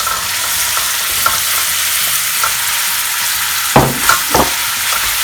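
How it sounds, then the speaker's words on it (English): Mushrooms fry in a hot pan with turmeric, a strong steady sizzle with light scrapes of stirring. Near the end come a few louder clatters of the spoon. "I'm going to add these mushrooms to it now"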